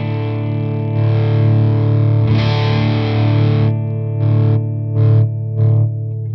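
Electric guitar through a Marshall JCM900 SLX amp with high-gain drive, heavy distorted chords held loud and sustained, then three short choppy stabs near the end.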